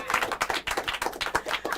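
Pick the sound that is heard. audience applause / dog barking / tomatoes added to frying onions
audience applause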